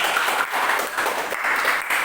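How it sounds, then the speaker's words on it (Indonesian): A group of students claps together in a classroom, producing a short, fairly loud burst of applause that carries steadily with slight dips in intensity. "Tepuk tangan dulu Mas."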